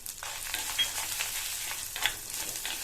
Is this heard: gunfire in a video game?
no